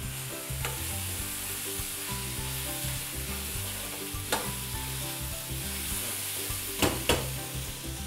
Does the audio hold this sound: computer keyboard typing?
no